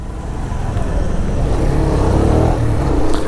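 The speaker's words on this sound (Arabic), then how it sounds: "دابا غنلقى صعوبه باش نسوق الموتور شويه حيت مولفش على البلان ديال مولف كنطلاق يدي شويه من لومبرياج" A Benelli VLX 150cc motorcycle engine revving nearby, a loud continuous throaty roar that swells and holds steady, with no speech over it.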